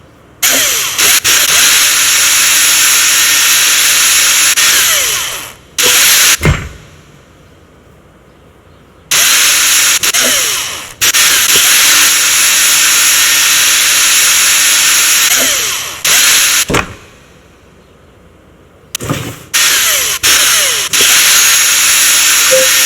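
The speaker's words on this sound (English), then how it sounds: "Grab your drill now and drill a hole in the top, middle, and bottom at the 16-inch marks on the back of the cabinet." A power drill drills holes through the back of a cabinet in three long, loud, close bursts, separated by quieter pauses.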